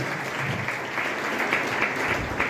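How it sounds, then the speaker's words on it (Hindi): Dense, steady applause from an audience at an award ceremony, a continuous roar of many hands clapping at a constant, fairly loud level. "इतनी तालियों से काम चलेगा नहीं अर्चित का।"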